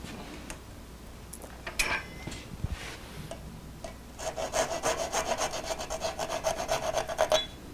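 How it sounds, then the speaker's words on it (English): A hand saw cuts through a miniature wooden bird house on a lathe, starting with scattered scrapes and taps, then settling into a fast, even run of close rasping strokes, with no talking. "I'll just finish cutting it off with the saw"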